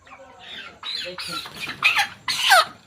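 A chicken being handled on a poultry farm squawks loudly several times in quick, rising bursts, growing louder toward the end, with faint background noise between calls.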